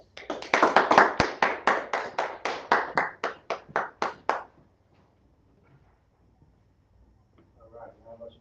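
A group of people clapping in a church or class setting: a burst of rhythmic claps for about four seconds, fairly loud and close, then near silence with faint voices later.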